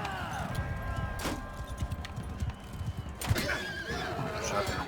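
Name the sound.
horse neighing in video game Mount & Blade II Bannerlord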